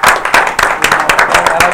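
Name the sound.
round of applause from audience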